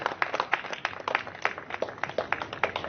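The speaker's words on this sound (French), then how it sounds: "Je vous prie de l'applaudir très très chaleureusement." An audience at the FESPACO film festival gives a film director a round of applause, a dense, steady patter of many hands clapping close by for a few seconds.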